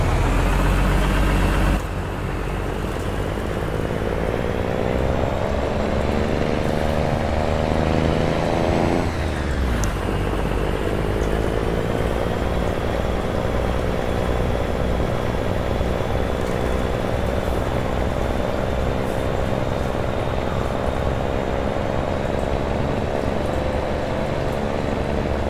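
A truck in American Truck Simulator drives from Albuquerque to Santa Fe in New Mexico. Its engine drones loud and steady throughout, with a brief change in tone near the start and again partway through.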